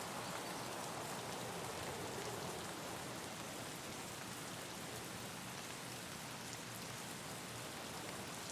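Steady, dense rainfall in the video game Raid, a broad even hiss of drops on surfaces that holds at constant strength throughout with no voices.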